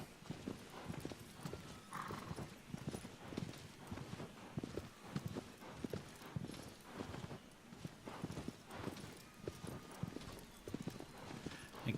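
A horse's hooves clip-clop steadily at a trot in Shadow of the Colossus, the rhythmic beats continuing close and even over a soft background wash, with a faint whinny partway through.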